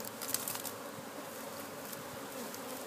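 Honeybees hum in a dense, steady drone around beehives with double brood chambers, a soft continuous buzz close by.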